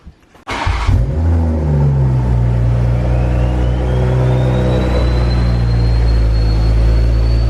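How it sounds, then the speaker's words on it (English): A big-turbo 2020 Supra engine cranks and catches on a cold start, then settles into a loud rumbling idle while a thin turbo whine slowly rises in pitch above it. "it's gonna be the only cold start where the turbo is louder than the exhaust"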